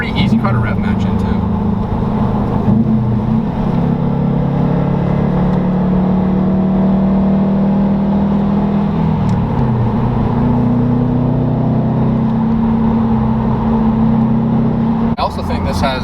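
A 2017 Subaru WRX STI engine drones steadily under gear changes, its pitch shifting and settling between about 2 and 9 seconds as rev-matched downshifts land, with someone talking over the mechanical hum the whole way through.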